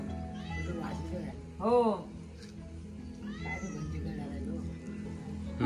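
Cat meowing several times in a village setting in Konkan, with a prominent drawn-out meow near the middle and other calls around it, heard under people talking.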